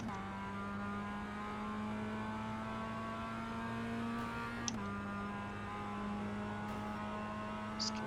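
Mazda MX-5 race car engine in the iRacing simulator drones steadily at high revs from the cockpit, with a brief dip as the throttle eases before climbing again.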